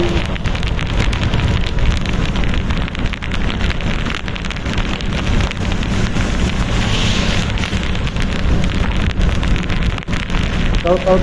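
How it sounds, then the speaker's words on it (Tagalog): Steady, heavy rain from Typhoon Kristine patters continuously with wind buffeting the microphone, a dense rushing roar throughout, recorded outdoors by a road. "Pero bakit may hangin, ulan?"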